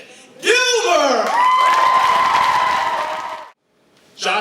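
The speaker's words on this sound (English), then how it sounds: "I want you to make more and more noise, the applause has to get louder as we go through" An audience claps and cheers loudly for a performer at a live show, with whoops and shouted voices over sustained applause, then a sudden drop to near silence before the noise rises again.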